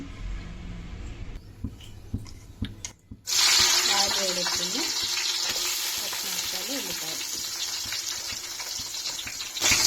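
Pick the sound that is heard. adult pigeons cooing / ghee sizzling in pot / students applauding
ghee sizzling in pot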